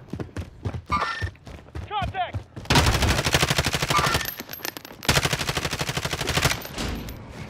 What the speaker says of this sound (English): They shooting at me.